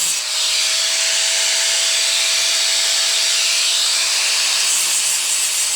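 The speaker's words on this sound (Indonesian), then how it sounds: "Jadi kita gerinda sampai gear ini bisa masuk dengan sempurna" An angle grinder working steadily on a worn motorcycle gear so it fits the sprocket, a continuous high-pitched grinding hiss with a steady whining tone, close and loud, no pauses.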